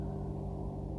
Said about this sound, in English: Oh, there's a highway outside.